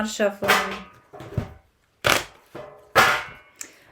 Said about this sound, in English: a lot of shuffling